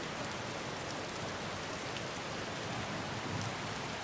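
Steady rain falls in the video game Skyrim, an even hiss of drops continuing alone with no voices.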